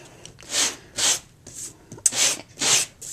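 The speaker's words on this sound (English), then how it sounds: "I lightly, don't go crazy on it, but I lightly go over it with my sander" Small dollar-store nail sander lightly buffing embossed paper for a Valentine card, five short, close rasping rubs in an even rhythm with quiet gaps between strokes.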